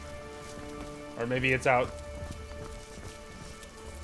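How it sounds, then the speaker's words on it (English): Steady rain falls in the Divinity Original Sin video game, a constant soft patter on surfaces heard throughout as a voice briefly speaks over it. "The rain is not going to go away."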